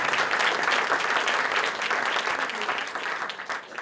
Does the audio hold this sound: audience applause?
yes